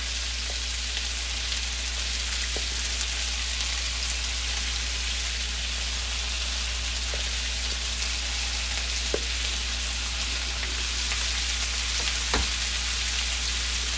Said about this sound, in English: I've seared my meat. Seared it nice and pretty.